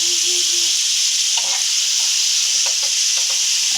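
Butter sizzling on a hot pan while making kachi dabeli, a steady loud hiss throughout with a few light scrapes and taps.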